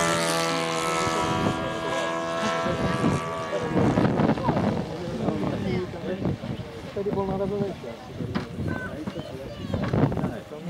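A F4U Corsair propeller plane drones overhead with its landing gear up, a steady harmonic buzz that fades, mixed with wind noise and people talking nearby at an air show.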